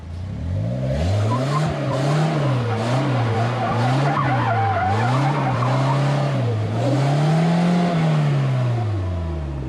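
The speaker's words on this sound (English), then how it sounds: "So now we know that it drifts." A car drifting with traction control switched off, its tires squealing loudly and continuously while the engine rises and falls in repeated revving swells, close and sustained throughout.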